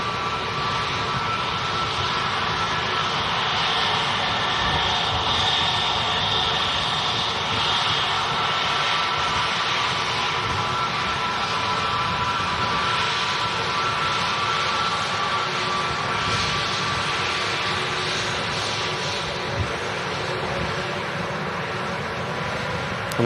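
A Turkish Airlines jet airliner roars continuously at a plane-spotting site, a loud, steady broadband engine rumble and whine that holds for the whole stretch with no talk over it.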